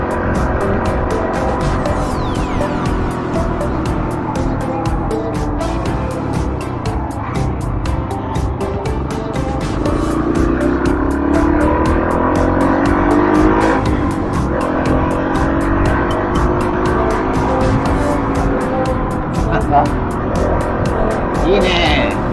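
A car travels along a rural country road in Nara, Japan, its steady engine and tyre roar continuous and close from inside, with mild swells as it moves along, and no clear talk.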